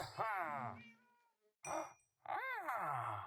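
Expressive Minecraft villager voices from the Vocal Villagers resource pack: gliding, sing-song grunts and murmurs in short bursts with brief silences between them, close and fairly clear.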